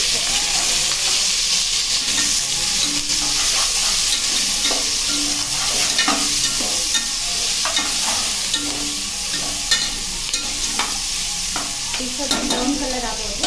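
Chicken pieces frying in a pan for a village-style pepper chicken fry, a loud steady sizzle up close with frequent stirring clatters and scrapes throughout.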